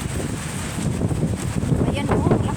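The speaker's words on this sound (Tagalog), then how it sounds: "Ang lakas po talagang hangin." Strong typhoon wind in Taiwan roars as a steady, loud broadband rush that swells slightly toward the end, with no clear speech over it.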